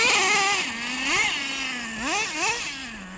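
A Traxxas Slayer nitro RC truck engine screams nearby with a high, buzzy tone, revving up in sharp repeated bursts between steady idling stretches.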